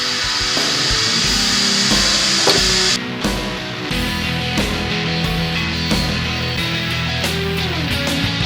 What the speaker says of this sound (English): part out, the centre piece by using the thin parting tool